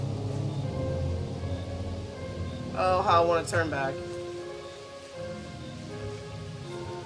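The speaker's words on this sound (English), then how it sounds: "Now it's raining." Steady rain falls throughout a video game scene, a continuous hiss with a spoken voice over it and a brief burst of game sound midway.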